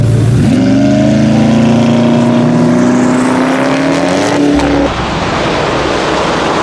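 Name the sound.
several Koenigsegg supercars driving by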